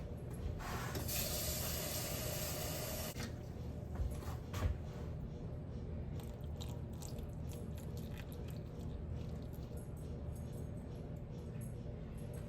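Water pours briefly into a bowl of flour on a kitchen scale with a bright splashing rush that stops after a couple of seconds, then quiet room sounds follow.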